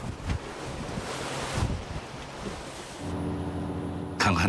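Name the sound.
rough sea waves crashing against a fishing boat in strong wind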